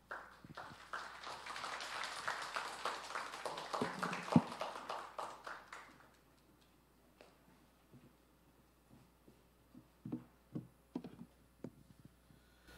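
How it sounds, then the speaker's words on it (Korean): Audience applause welcoming a professor to the lectern at a lay academy lecture, a dense burst of clapping for about six seconds that stops abruptly, followed by quieter room noise with scattered taps and a few soft voices. "나오실 때 큰 박수로 환영해 주시고"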